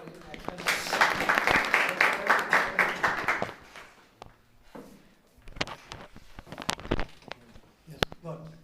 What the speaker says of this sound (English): Excellent point. Clap for him.